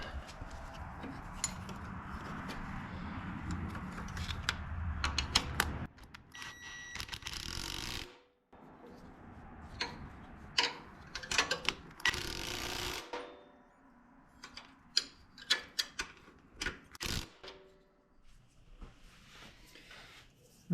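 Hand tools working on hydraulic fittings and locking nuts while a third SCV and hydraulic top link are installed on a John Deere 1025R tractor: scattered metallic clicks, ratcheting and clanks in short bursts, close by, with no talking.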